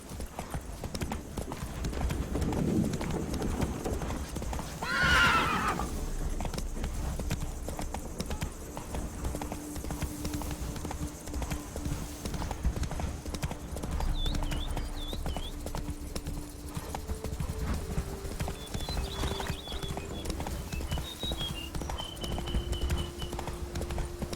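Roach the horse from The Witcher 3 gallops steadily in clip-clop hoofbeats throughout, with a brief whinny early on and faint game ambience and tones underneath; no talking.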